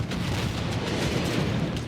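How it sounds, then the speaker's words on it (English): Explosions rocking a shoreline amid mud and smoke in the Battlefield 6 video game campaign, a dense, continuous low rumble of blasts that stays loud and booming throughout. "Mud and smoke obscured my vision while explosions rocked the shoreline."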